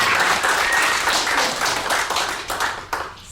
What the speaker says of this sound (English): keep clapping for Beck and Sean